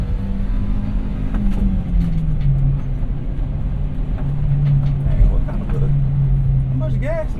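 A small Japanese Kei truck engine drones at full throttle from inside the cab, a steady low hum that pitches down as the gears change. Road noise rushes constantly beneath it, and voices talk over the engine.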